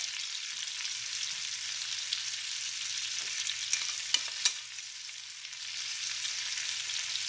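Crushed garlic sizzling in butter in a pan with beefsteak, a steady, moderately loud frying hiss throughout, with a few faint clicks midway.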